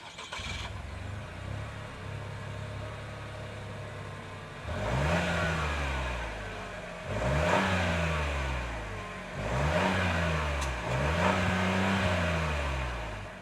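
A 2026 Chevrolet Trailblazer's 1.3-liter turbocharged 3-cylinder engine idles, then revs up sharply four times in rising-and-falling bursts, each rev dropping back to a steady idle.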